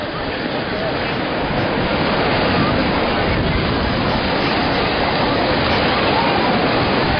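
Water rushes in a dense, steady broadband roar that stays loud and unbroken throughout, with no clear voices over it.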